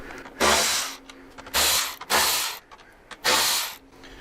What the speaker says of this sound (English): There's a few screws that you have to remove, and they're going to be a Torx 15